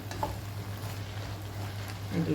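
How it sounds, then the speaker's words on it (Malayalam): Spinach and lentils being stir-fried in a pan: a steady close sizzle and frying hiss with light scraping from stirring, continuous throughout. "നമുക്ക് നല്ലതുപോലെ ഇങ്ങനെ ഇളക്കിയൊക്കെ കൊടുത്ത് ഇതൊന്ന് കുക്ക് ചെയ്തെടുക്കാം"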